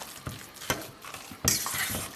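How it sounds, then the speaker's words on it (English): A vegetarian mushroom kotletai mixture is stirred in a bowl, with soft scraping and a few light clinks of the utensil, followed by a louder burst of hissing sizzle from a hot pan. "I'm going to stir this together."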